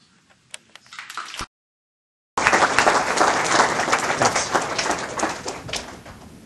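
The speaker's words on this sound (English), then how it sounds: "So let's give a round of applause for him." An audience applauds a guest speaker being introduced at a talk, starting with a few scattered claps, then after a brief gap swelling into loud, sustained room-filling applause.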